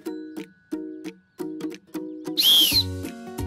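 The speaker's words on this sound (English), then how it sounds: "It's a lifeguard whistle." Someone blows a lifeguard whistle once, a short, shrill blast with a slight rising pitch, heard among plucked musical notes that start and stop.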